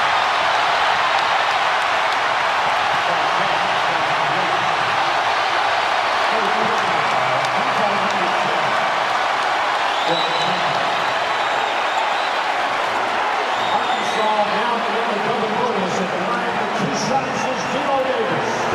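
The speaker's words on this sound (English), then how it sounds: "the crowd is going wild at Bud Walton" A basketball arena crowd at Bud Walton roars loudly and steadily during an Arkansas versus Kentucky game, a sustained wall of cheering with a commentator talking over it.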